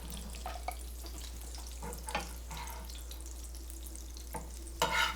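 Prosciutto cooking in a pan for carbonara, a soft steady sizzle with faint stirring scrapes and a louder clatter near the end, no talking.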